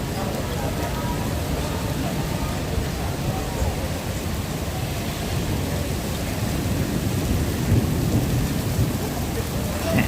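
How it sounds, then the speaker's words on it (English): Heavy rain downpour with thunder during a walk in Tokyo, a dense, loud, continuous hiss of pouring rain with low rumbling beneath, steady throughout. "It's a pretty good downpour right now."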